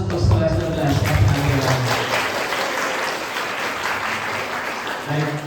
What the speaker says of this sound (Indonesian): Sekali lagi beri aplaus untuk kelas 12.